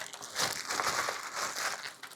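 A plastic chili sauce packet from a koshari takeaway in Tahrir, Egypt, crinkles and rustles continuously at close range, a steady crackling handling noise with no speech over it.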